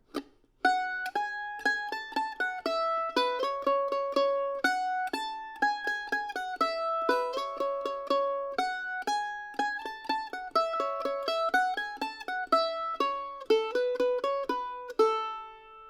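A mandolin plays the B section of the old-time tune "Pretty Red Lips" in single-note melody, a steady stream of bright picked notes, close and clear, with no talking over it.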